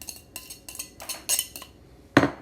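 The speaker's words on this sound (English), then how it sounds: "I wish I could cut onions that fast." A knife dicing onions on a cutting board for a tuna salad, giving quick, uneven chops and taps close by, ending in one louder knock.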